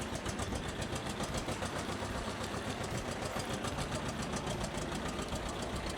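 Small tractor engine with a rotary tiller attached runs steadily and close by, a continuous rhythmic knocking chug that holds an even level throughout, with no talking.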